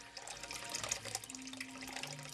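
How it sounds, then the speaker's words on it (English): An aquarium filter intake pipe draws water in with a steady, quiet gurgling and bubbling rush, close by and continuous, with no voices. "pipe that is sucking water in. It goes into the filter, goes through the media"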